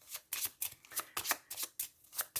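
Tarot-style cards being shuffled for a monthly horoscope reading, a close, quiet run of quick riffling bursts in an even rhythm.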